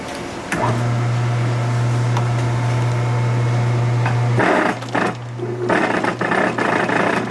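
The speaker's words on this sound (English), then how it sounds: "I guess we could walk over to the sewing machine and rip that through." A sewing machine runs steadily as it stitches through a skinned coyote pelt during fur handling, a continuous close motor hum for several seconds that breaks off, then resumes in shorter bursts with clunky mechanical handling noises.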